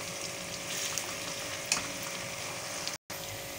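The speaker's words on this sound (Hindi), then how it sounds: "अब हमने इसे फ्राई करना है बस ज़रा सा सॉफ्ट होने तक" Chopped onions frying in a pan to soften for a tomato and onion chutney, a steady close sizzle with a few soft stirring clicks and a brief cut-out near the end, no talking.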